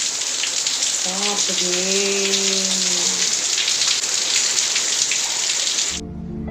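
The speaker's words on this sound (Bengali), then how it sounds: "বৃষ্টি থামাই নাম নেই অন্ধ নেই হয়েই যাচ্ছে হয়েই যাচ্ছে" Heavy rain falls in a steady, dense hiss that fills the clip, loud and continuous, with a brief tonal voice-like sound partway through, before the sound drops away abruptly near the end.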